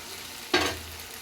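Ginger-garlic masala for a prawn curry with eggs and drumsticks gives one sudden sizzle in a hot pan, a bright hiss that flares and quickly settles into a soft, low fry, close and otherwise quiet.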